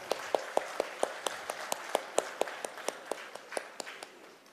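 Audience applause at a college management panel event in Bangalore: thin, fairly even clapping with sharp claps in steady succession, moderately distant and fading slightly toward the end.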